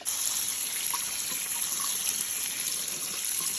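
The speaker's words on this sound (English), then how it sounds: "Then I drain them and rinse them," Water runs steadily from a tap in a continuous, even rush, with faint splashing as soaked beans are rinsed beneath it.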